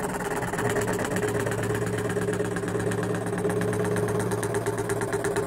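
A scroll saw running at medium speed makes a curved cut in wood. It gives a steady, close mechanical buzz with a fast, even pulsing rhythm throughout, and no one speaks.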